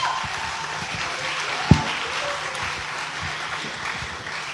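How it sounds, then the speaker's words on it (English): At an agripreneur pitch finale, an audience gives moderate, steady applause for a presenter, with one sharp loud clap standing out early on. "Let's give her a round of applause."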